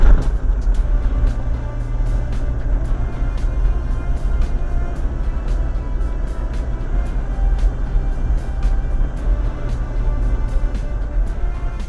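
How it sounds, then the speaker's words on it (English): A 4x4 towing a bush caravan climbs a sand dune in Botswana, its engine giving a steady, loud, low drone with a sustained tone held throughout and scattered clicks over the top, no voices. "With more speed and momentum, we tackle the dune via a different road and make it."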